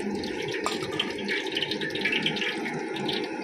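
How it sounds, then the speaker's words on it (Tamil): Half a litre of cooking oil pours into a pot for ghee rice, a close, steady liquid gurgle and trickle lasting a few seconds with no talk. "இப்போ தேவையான அளவு எண்ணெய் ஊற்றிக்கலாம். அரை லிட்டர் எண்ணெய் ஊற்றிருக்கேன்."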